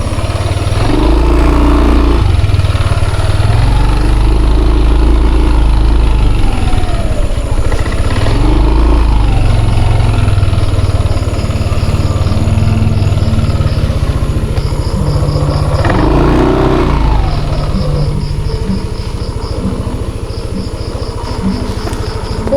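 A motorcycle engine runs steadily and loudly up close, with occasional revving swells and a constant rumbling drone throughout.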